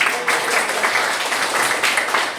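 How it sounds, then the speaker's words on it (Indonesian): A school class applauds together during a lesson, giving a continuous, moderately loud patter of many hands clapping for a couple of seconds with no talk over it. "Tepuk tangan buat kita"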